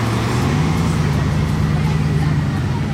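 A Bugatti supercar rolls along a street in Juan-les-Pins, its low engine rumbling steadily and fairly close amid the general traffic hum, with no sharp rev or clear pass-by peak.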